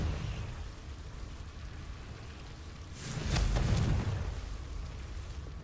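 Confringo blasting spell in Hogwarts Legacy, a single muffled fiery burst swelling to a dull boom that fades over about a second amid low rumbling game ambience.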